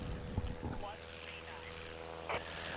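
Experimental bush plane taking off at a STOL competition in Brainerd, Minnesota, a steady propeller engine drone held throughout with faint crowd and commentary voices beneath.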